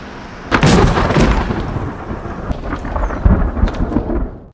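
Heavy rain with rolling thunder in a film scene, a loud close rumble building over steady downpour, with a second crack of thunder shortly after.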